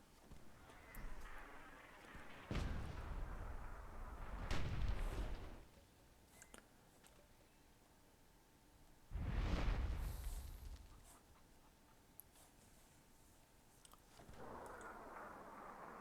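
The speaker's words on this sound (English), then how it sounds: "Nice mortar shot there from Kronjak." A mortar shot in the fantasy strategy game Myth II: Soulblighter, heard as faint, muffled explosive bursts that swell and fade a few times amid quiet battlefield ambience.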